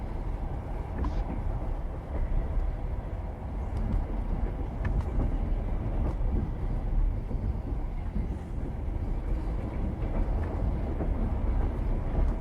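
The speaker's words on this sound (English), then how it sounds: "I'm turning off these train noises." A continuous rumbling train ambience from a tabletop game soundtrack, with a low, steady roar and faint clanks that persist throughout without talk.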